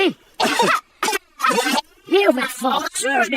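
A cartoon character in a Peppa Pig setting coughs during a school cough outbreak, a string of loud, close, hacking coughs in short bursts mixed with voiced sounds.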